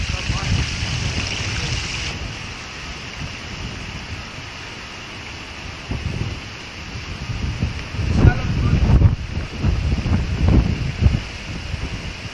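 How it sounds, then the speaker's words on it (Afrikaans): Outdoor wind at the Bloemfontein water purification works buffets the microphone in rough, gusty rumbles that swell and fade, with occasional voices nearby. "Ons bly hier die windjie waai"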